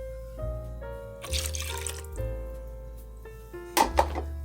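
Buttermilk, eggs and melted butter pour into a bowl of cornbread mix, with two short bursts of splashing liquid heard over steady background music.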